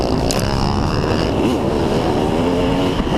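A dirt bike engine revs hard and close on a dirt track, the pitch rising and then dropping once as the rider shifts gear mid-jump, loud and steady throughout.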